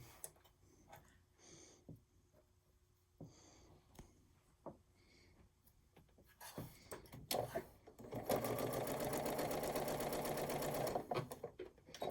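Sewing machine stitching fabric pieces together while making houses, starting with a few short ticking bursts, then running in a loud, steady stitching whir for several seconds near the end, with no talk.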